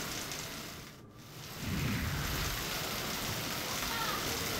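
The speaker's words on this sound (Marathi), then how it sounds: "शहरात पावसाची रिपरिप सुरूच होती" Steady rain falling over Pune city during a red alert downpour, a continuous broadband hiss that briefly dips, then swells louder and stays dense, with no talk over it.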